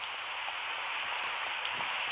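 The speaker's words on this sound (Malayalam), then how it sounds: "നല്ല മഴയാ" Heavy rain pours down in a steady, dense hiss, close and loud throughout, with no voices.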